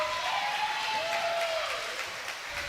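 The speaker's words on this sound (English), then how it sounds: "Collinwood crowd letting the referee know they're glad they finally got called" A crowd at a Collinwood high school district semifinal volleyball match reacts to a referee's call with sustained cheering and clapping in a gym, steady and moderately distant, with a whistle-like tone sliding through early on.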